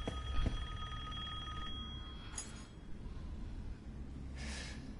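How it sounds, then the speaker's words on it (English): A telephone rings in the video game Resident Evil Village, a thin electronic ring tone held for a couple of seconds before fading, with faint game ambience and scattered clatter. "Phone ringing."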